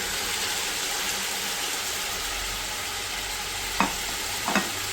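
Meat frying in a pot with half a bunch each of coriander and mint plus two or three whole green chillies for beef yakhni, giving a steady close sizzle and hiss throughout with a couple of brief stirring clinks near the end.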